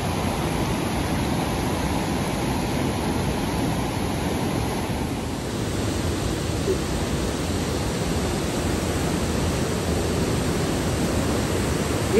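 Water rushes steadily near Kalu Waterfall, a strong stream whose flow roars as a dense, continuous broadband wash throughout, loud and unbroken with no voices.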